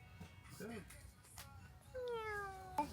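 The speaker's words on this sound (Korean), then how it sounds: "사람한테 오는 거 보니까 여기서 키우는 고양이인가?" A cat that comes up to people at a campsite meows several times, short rising and falling cries, close and moderately loud, with quiet voices and camp sounds around it.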